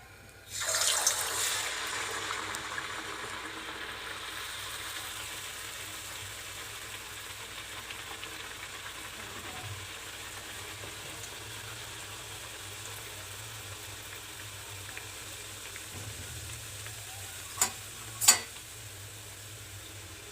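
Kombadi vade dough dropped into hot oil sets off a steady frying hiss and sizzle that begins with a burst and carries on evenly, with a couple of short sharp clicks near the end and no talking.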